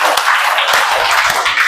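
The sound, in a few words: children clapping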